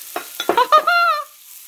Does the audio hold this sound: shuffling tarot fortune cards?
no